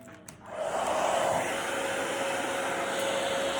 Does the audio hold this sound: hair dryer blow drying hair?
yes